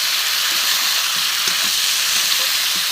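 Mutton sautés with spices in oil in a pot over a wood-fired stove, giving a loud, dense, unbroken sizzle with a few faint stirring knocks underneath.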